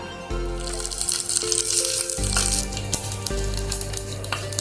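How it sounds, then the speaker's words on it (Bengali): Mustard oil sizzles loudly as black mustard seeds, chopped green and red chillies and curry leaves fry in a small bowl, with a steady crackling hiss and a few sharp pops. "কুড়ি সেকেন্ডের মতন তরকাটা ভেজে নিয়ে গ্যাসটাকে অফ করে দিল"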